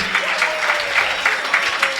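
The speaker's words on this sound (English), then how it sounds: "let us all give them a big round of applause, please" A crowd applauds steadily at a Sunday school annual day program, a warm wash of many hands clapping at once.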